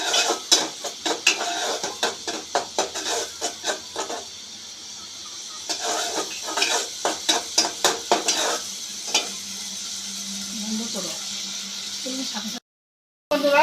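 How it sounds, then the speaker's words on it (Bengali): Spices and ginger paste stir-fried in a pan, a spoon scraping in quick repeated strokes over a steady sizzle, then a quieter stretch of frying with occasional scrapes before a brief cutoff. "দিয়ে মশলাগুলোকে আবারও ভালো করে কষিয়ে নিব।"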